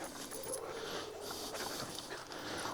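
A German shepherd dog panting during obedience training: quick, breathy, rhythmic huffs that are close and faint and run continuously, with no voices.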